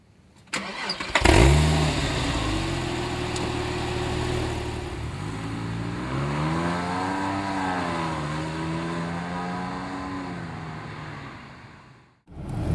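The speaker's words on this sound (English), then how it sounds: "here is full throttle on a Porsche 911 C4S" A Porsche 911 Carrera 4S engine fires up with a sharp catch, then idles. Around the middle it revs hard at full throttle in rising and falling sweeps before cutting off near the end.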